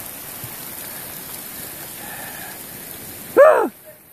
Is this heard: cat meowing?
no